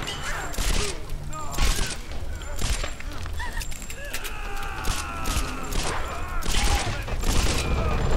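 Rapid bursts of gunfire in Tomb Raider GOTY crackle in quick succession over a busy, noisy game soundtrack, loud and close.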